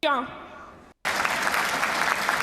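A brief voice gives way after a short silence to a sudden, dense wash of audience clapping that continues steadily and evenly to the end.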